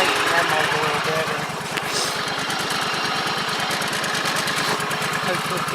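A John Deere 345 lawn tractor fitted with Terra-Grip tire chains and a snowblower idles nearby with a steady, evenly pulsing mid-pitched engine thrum that holds throughout, in winter conditions.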